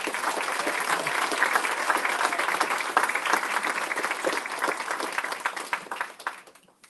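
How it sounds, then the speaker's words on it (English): Applause at a school board meeting honoring an 8th grade student, Grayson: a full room clapping steadily and fairly close, tapering off at the end. "Let's give a round of applause to Grayson"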